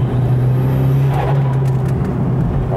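A Mitsubishi Lancer Evolution VI (CP9A) with its turbocharged 2-litre engine drones loud and steady while driving, holding an even pitch without speech.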